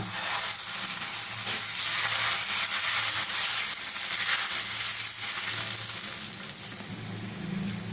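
Cucumber dosa batter sizzles on a hot griddle with a loud, steady hiss close by, easing slightly toward the end, and no talking.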